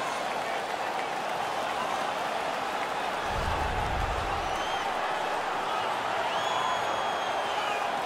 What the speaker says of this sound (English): The crowd is so pumped right now.